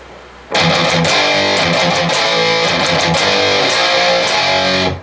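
A loud distorted electric guitar kicks in after a brief pause, strumming chugging power chords that ring out for several seconds.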